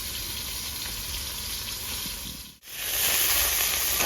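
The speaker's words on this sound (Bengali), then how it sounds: "আর তার সঙ্গে দিয়ে দেবো ফুলকপি, একসঙ্গে ভেজে নেবো হালকা করে।" Cauliflower and potato pieces fry in a pan for a home-style fish curry, giving a steady, close sizzling hiss throughout with a brief dip midway before the frying swells louder again.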